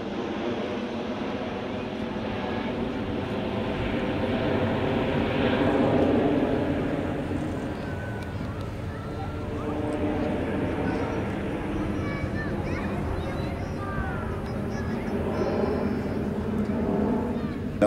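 An Airbus A400M Atlas military transport aircraft flies a tactical display at an air show, its broad turboprop drone steady and loud throughout, swelling slightly midway.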